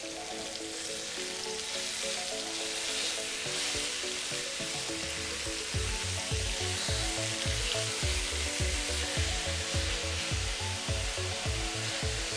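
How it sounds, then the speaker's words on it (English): Steady crackling sizzle of ground pork frying in hot oil, with rhythmic scraping or stirring thuds in the second half; no voices. "Once it's been sizzling for about a minute or so, you can add in your ground pork."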